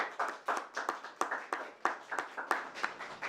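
A small audience claps at a speaking event, about a dozen individual claps sounding in a quick, uneven rhythm, fairly close and moderately quiet, with no talk over it.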